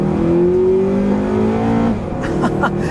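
A 2007 Acura TSX with automatic transmission revs up quickly as VTEC engages near 6,000 RPM, its engine note climbing steadily and loudly before easing off, heard from inside the car.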